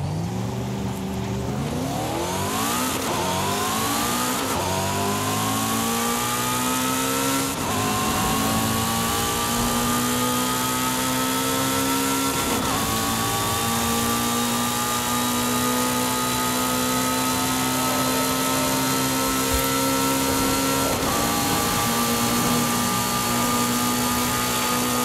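A car in Forza Horizon 5 drives down a highway, its engine note climbing through repeated gear changes into a steady, loud high-speed drone that runs without pause and with no one talking.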